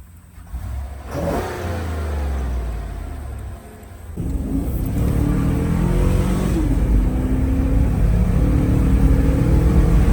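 A GMC Yukon or Chevy Tahoe V8, 5.3L or 6.2L, revving on its stock air intake: a deep engine rumble that climbs sharply after a short dip, then holds a loud, sustained high-rev roar close by with no talk.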